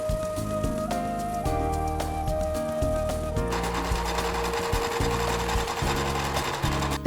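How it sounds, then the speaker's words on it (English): Sewing machine running steadily as it stitches a seam on a knit tank top, a close, continuous mechanical whir with a few brief pauses and changes in pace. "I would recommend to machine stitch the seam first for some added stability"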